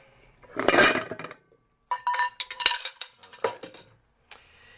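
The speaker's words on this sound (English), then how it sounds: "I'm just going to put all the ice in here" Ice being dropped into a glass for a martini, a cluster of bright clinks and rattles followed by several more scattered cube clatters close up, with no talking.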